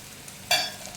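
Cut raw mango pieces and a sprig of curry leaves hit hot sesame oil with a sudden sizzling burst, which fades quickly to a quieter hiss within a second.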